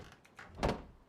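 A door in the video game Rust Console Edition swings shut with a single solid thunk after a faint creaking slide, heard alone and fairly close.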